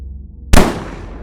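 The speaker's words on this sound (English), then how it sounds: "A gunshot." A single loud gunshot cracks out after a brief quiet stretch, with a long echoing decay trailing off outdoors, as if fired near hunters in open country.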